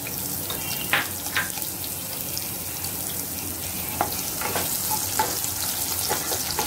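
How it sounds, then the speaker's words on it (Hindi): Two medium onions, chopped, fry in hot oil in a pan for veg pulao, giving a steady close sizzle. A few sharp clinks of a stirring spoon break through now and then, with no one talking. "मैंने 2 मीडियम साइज़ की प्याज काट के रखी है वो डाल देंगे"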